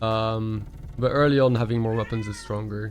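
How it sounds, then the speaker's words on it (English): A pet cat yowls and screams loudly in the room, its drawn-out cries overlapping someone talking during a strategy video game. "And I apologize for the screaming cat in the background."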